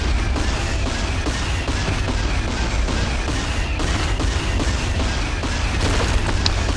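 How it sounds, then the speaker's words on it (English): Heavy sustained weapons fire from a war machine in the Skylanders: Spyro's Adventure video game, a dense continuous barrage of booms and rapid shots at loud, steady volume with no gaps. "Follow the commands to control the war machine's powerful weapons system. main attack button to fire."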